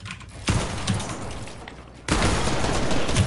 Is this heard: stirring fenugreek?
no